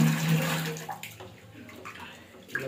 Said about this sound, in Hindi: अभी हम चावल धोने जा रहे हैं